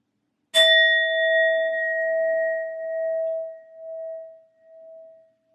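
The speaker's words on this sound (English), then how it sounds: "I'm going to use my sound bowl to clear and set the energy" A sound bowl is struck once, giving a bright metallic clang that settles into a long, clear ringing tone and fades slowly over several seconds, heard alone.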